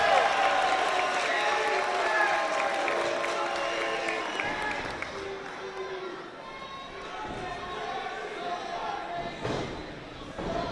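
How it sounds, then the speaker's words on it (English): Wrestling crowd cheering and applauding during a match, a broad roar that rises and falls under continuous commentary, with occasional thuds from the ring. "this crowd's coming alive"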